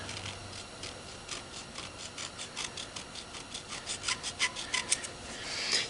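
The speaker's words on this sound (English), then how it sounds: "run a file across these contact points here" A hand file rasps back and forth across the contact points of a vintage parts washer, quick scraping strokes that grow louder and more rhythmic toward the end, close up, with no voices.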